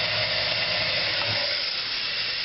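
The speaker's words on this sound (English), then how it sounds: "The water is aiming into the chimney here. It's filling up nicely." Water rushes steadily into a toilet tank during a running toilet repair, a constant close hissing flow with no breaks.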